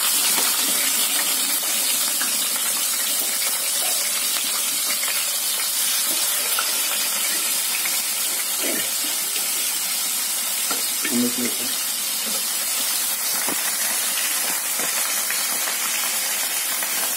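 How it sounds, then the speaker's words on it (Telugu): Leftover prawns deep frying in hot oil as a topping for prawn biryani give a steady, loud sizzling hiss with faint stirring clinks, continuous throughout and without speech. "మిగిలిన రొయ్యలు ఉన్నాయి కదా ఫ్రెండ్స్, ఇవి మనం నూనెలో డీప్ ఫ్రై చేద్దాం"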